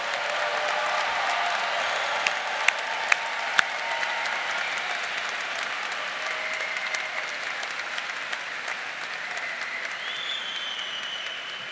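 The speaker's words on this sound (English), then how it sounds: "how about another big round of applause for all of our graduates?" Sustained loud applause from a large crowd at the Ball State University spring commencement ceremony, honouring the graduates, with dense steady clapping and a few sharper claps standing out.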